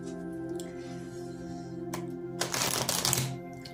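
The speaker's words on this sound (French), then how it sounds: "je vais continuer avec le Tarot Rider White, dont je vais vous tirer 6 cartes" Rider-Waite tarot cards are shuffled and drawn, soft riffling and sliding card sounds over a steady background hum, building to a louder burst of shuffling toward the end.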